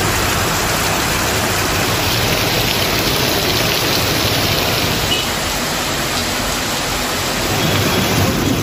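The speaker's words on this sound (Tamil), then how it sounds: "காற்றுடன் சில மணி நேரம் நீடித்த மழையால் சாலைகளில் மழைநீர் பெருக்கெடுத்து ஓடியது." Heavy rain in Manapparai drives down with wind in a dense, unbroken roar that stays loud and constant throughout.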